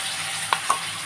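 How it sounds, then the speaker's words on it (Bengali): Ginger, garlic and spice paste sizzles in a hot pan with tomatoes and peas, a steady close frying hiss with a few quick stirring scrapes. "এই আদা রসুন সমস্ত মশলার পেস্টটা আমি ঢেলে দিচ্ছি এর মধ্যে"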